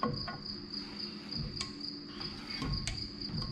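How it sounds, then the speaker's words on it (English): Cricket chirping in a quiet outdoor setting near an old farm truck, a steady high-pitched trill with a few sharper chirps standing out, moderately close and alone. "I kinda wanna strangle that cricket"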